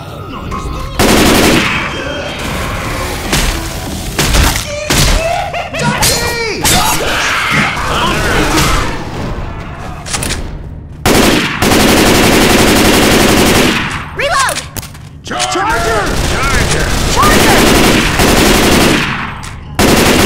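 Sustained automatic machine gun fire from Left 4 Dead 2 rattles loudly through most of the stretch, with dense bursts, brief gaps and scattered thwacks and impacts, while voices shout over the gunfire.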